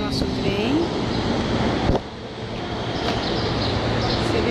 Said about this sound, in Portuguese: Esse é o nosso trem.